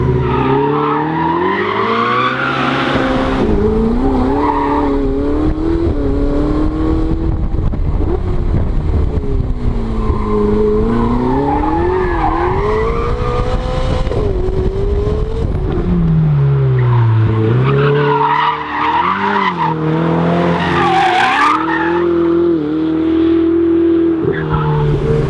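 A Ferrari 488 Spider accelerates hard on a rough road. The loud, close engine climbs and falls through repeated rising sweeps and gear changes, with brief tyre noise.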